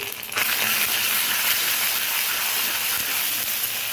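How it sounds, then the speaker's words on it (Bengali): Ginger paste hits hot oil with a sudden loud, steady sizzle that holds evenly for several seconds, close and without talk. "এখানে গরম তেল হয়ে গেছে, তেলের মধ্যে আদা বাটা দিয়ে দিয়েছি"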